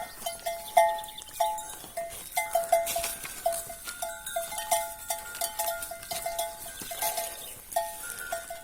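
A calf is driven along a rural path in Turkey, with bells clanking and jingling in an uneven rhythm close by and occasional bleat-like tones, no talk.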